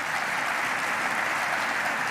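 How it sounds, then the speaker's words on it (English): An audience applauds Greg Lensett at an announcement event held by Governor Kathy Hochul and Micron, with dense, even clapping sustained throughout at a fairly loud level and no speech. "So let's give a round of applause to Greg Lensett as well."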